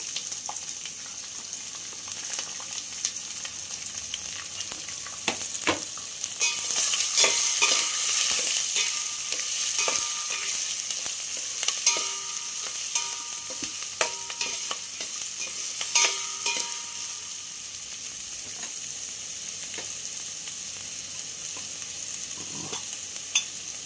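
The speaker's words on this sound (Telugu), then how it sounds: "ఇప్పుడు ఉల్లిగడ్డ, పచ్చిమిర్చి, కరివేపాకు వేసి వేయించుకోవాలి।" Onion, green chillies and curry leaves frying in hot oil, a steady close sizzle throughout with scattered clicks and scrapes of stirring, louder in the middle stretch, no voices.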